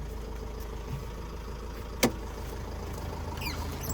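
The 2.5-litre diesel engine of a 2010 Opel Vivaro passenger van idles with a steady, low hum, quiet throughout, smooth and even, with a brief sharp click partway through.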